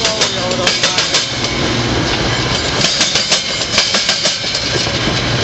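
A westbound Metra passenger train hauled by F40PH locomotive 149 passes close by near West Chicago, a loud, continuous roar with rhythmic clickety-clack of wheels over rail joints throughout.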